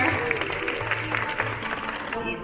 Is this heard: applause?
yes